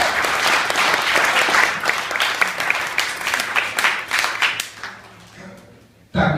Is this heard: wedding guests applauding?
yes